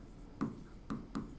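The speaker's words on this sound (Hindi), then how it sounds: "हम लिखते हैं" Writing on a slide or board, with three short close scratching strokes spaced apart against a quiet background.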